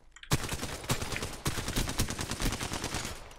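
Rapid automatic gunfire in Apex Legends, a dense burst of sharp repeated shots starting abruptly and continuing in quick rhythmic volleys, loud and close.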